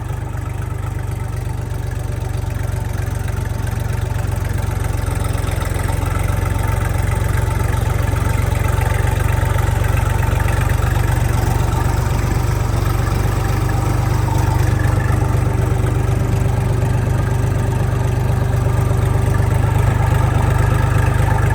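A Kentavr 244 mini tractor engine idles and runs steadily, a loud, continuous low rumble that holds even throughout with a slight rise toward the end, with no voices.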